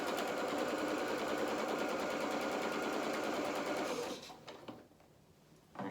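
A sewing machine runs steadily at speed, stitching over the tiers of a dress. It is close and continuous, then slows and stops near the end, leaving a few small handling clicks.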